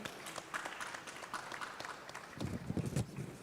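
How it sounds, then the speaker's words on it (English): Audience applause for a finalist at the Nasarawa State investment summit's MSME Challenge, a steady patter of clapping that swells louder and fuller toward the end. "A round of applause, please."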